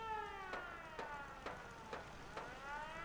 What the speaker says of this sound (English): Let me turn off the siren.